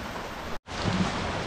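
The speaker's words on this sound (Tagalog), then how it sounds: "Inabutan nga kami ng ulan." Rain falls steadily outdoors during a grapefruit harvest, a loud dense hiss that cuts out briefly for a moment before resuming, with no voices over it.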